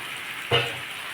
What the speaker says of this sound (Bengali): আমি এবার এর মধ্যে আলু ভাজা আলুগুলো দিয়ে দেবো